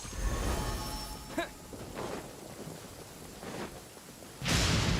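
Thunder and lightning strikes in the video game Genshin Impact: a sharp crack partway through, rumbling bursts, and a loud final crash over a windy, rainy background.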